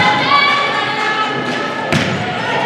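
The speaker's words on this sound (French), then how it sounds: "Maud Bouchard au service pour les rafales" A volleyball serve at a girls' 16U provincial school final, one sharp thump of the ball being struck near the end over a steady gym crowd murmur.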